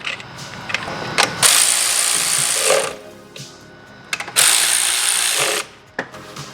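Hand ratchet tightening valve cover bolts on a 2008 Honda CR-V engine, two long runs of rapid loud clicking with short taps and clunks between, close up and without talk.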